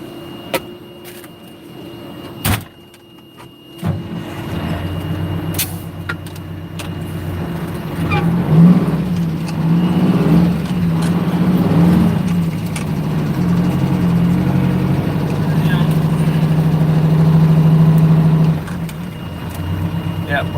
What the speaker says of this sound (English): I'm gonna move this truck, park it over in the shade